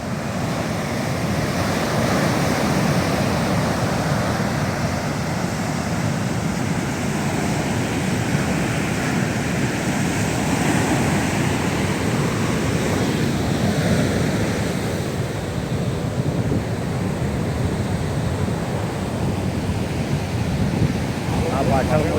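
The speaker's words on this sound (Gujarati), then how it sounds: "પૂનમના કારણે આજે મોજા ભયંકર આવી રહ્યા છે" Strong sea waves surge and crash steadily onto a beach near Dwarka on a full-moon day, a loud continuous roar of surf mixed with wind buffeting the microphone, with no voices.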